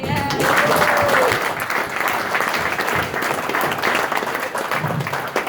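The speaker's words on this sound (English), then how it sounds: "I'm getting a clap on that." Applause from an outdoor crowd at a speech marking a monumental occasion on a New England afternoon, a dense, steady clapping sustained loudly throughout.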